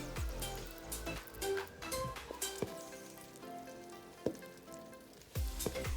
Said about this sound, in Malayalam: ക്രാൻബെറികൾ ഓരോന്നായി ഇപ്പോൾ പൊട്ടിത്തുടങ്ങും.